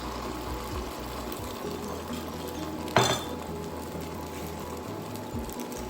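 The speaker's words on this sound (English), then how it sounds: "Spread this omelet around in this pan." A metal utensil scrapes and clinks softly against a hot pan while an omelet is spread around, with a low steady background hum and one sharper clink midway.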